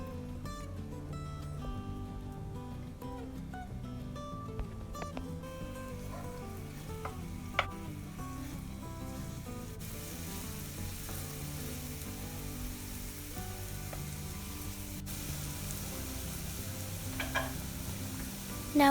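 Ground garlic fries in hot oil with a steady, soft sizzle and a few faint scraping stirs, continuing evenly and fairly quietly throughout.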